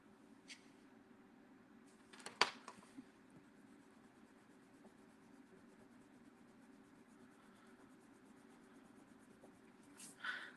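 A pen scratches faintly across paper in a quiet room, a soft continuous scribble with a couple of sharper taps and clicks breaking through now and then.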